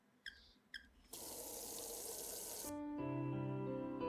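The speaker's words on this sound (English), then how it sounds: "I turned the knob and cold water poured out of the faucet" Cold water gushing from an outdoor garden faucet station, preceded by two short squeaky turns of the knob, then a steady loud hiss of flow that shifts into a ringing, rising filling tone.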